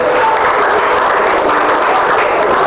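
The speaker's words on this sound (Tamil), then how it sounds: "அவங்க கைதட்டு கொடுத்து" Applause from an audience at a Tamil student event, a steady dense wash of clapping that runs the whole time without pause, fairly loud and close, with a faint murmur of the crowd underneath.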